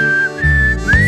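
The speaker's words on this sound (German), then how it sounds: "Komm, pfeif mit und klatsch in die Hand." A single melodic whistle along to a German children's song about a monkey, rising and holding a clear tone over bouncy music at moderate loudness.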